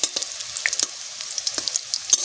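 Fish roe chops fry in hot oil, a continuous crackling sizzle punctuated by sharp pops and spatters, close and fairly loud, with no voices.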